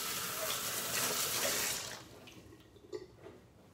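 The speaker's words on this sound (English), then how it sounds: "Let me wash my hands." A kitchen tap runs steadily as hands are washed beneath it, the flowing water loud and continuous before it shuts off midway, leaving faint drips and small clatters.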